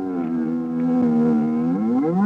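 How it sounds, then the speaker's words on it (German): The Star Wars Bantha creature sound effect, made from a bear's call slowed down: one continuous deep, droning, moaning groan with a wavering pitch that rises at the end, loud and close, with no talk. "Das Geräusch eines Bären nur langsam abgespielt ergab das Banter."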